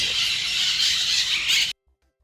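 Parakeets in an aviary at Parque das Aves in Brazil give a loud, continuous shrill squawking that cuts off abruptly, leaving near silence.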